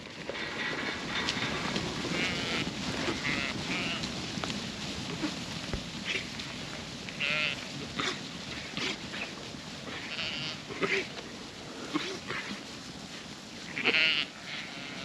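Sheep bleat and make short, rough coughing sounds amid a restless flock, scattered bursts at moderate distance over low background noise.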